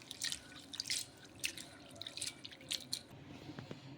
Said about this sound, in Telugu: ఇంకా అటుకుల్లో నీళ్ళు అనేది వేసేసుకొని ఒక 2 సార్లు బాగా కడిగేసుకుందాము